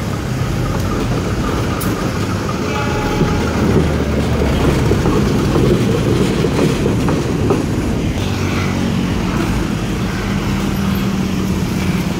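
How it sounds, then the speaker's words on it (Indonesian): KRD Bandung Raya commuter train hauled by a CC 206 locomotive on the Padalarang–Cicalengka route passes nearby, a continuous loud rumble of wheels and engine with some clacking and faint road traffic beneath. "KRD Bandung Raya dengan CC 206 relasi Padalarang Cicalengka."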